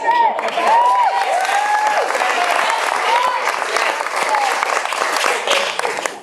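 Wedding guests break into a sustained round of applause with some cheering. A whistle-like voice rises over the steady clapping throughout.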